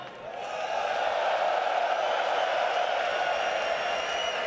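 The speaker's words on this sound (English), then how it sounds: "Richard, it's that time again to check in with our crowd here in the Royal Arena." A large arena crowd at a CS2 Major esports event at the Royal Arena in Copenhagen swells into loud, sustained cheering and roaring that holds steady for several seconds.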